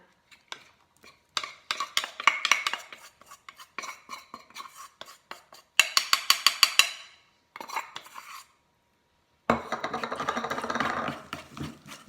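Utensils clatter and scrape against a bowl as flour is mixed into cake batter, in quick bursts of rhythmic stirring taps with brief pauses between, close up.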